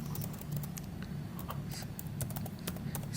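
Soft, quick keystrokes clatter on a computer keyboard in an irregular typing rhythm, fairly faint over a low steady background hum.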